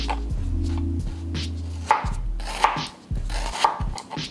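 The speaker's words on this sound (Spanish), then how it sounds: "Lo primero que vamos a hacer es picar la verdura y empezamos por la cebolla." A knife chopping onion finely on a cutting board, with crisp rapid taps coming in quick bursts separated by short pauses, close and clear with no talking.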